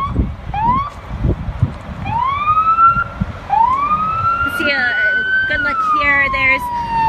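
Several emergency vehicle siren wails at a wildfire rise and fall in repeated sweeps, fairly close, with a yelping burst later and rumbling traffic and faint voices underneath.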